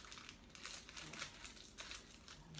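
Plastic bag holding rolled puff pastry crinkling as it is handled, soft irregular rustles close by and fairly faint, with no talking.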